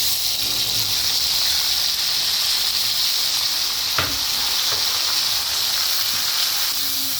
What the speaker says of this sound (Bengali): ক্যাপসিকামটা হালকা ভাজা হয়ে গেলে এবার আমি পেস্টটা দিয়ে দিলাম